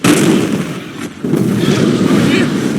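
Tank cannons in the Sand Land video game boom in loud, heavy blasts, one at the start and another after a brief lull, with rumbling battle noise and some voice underneath.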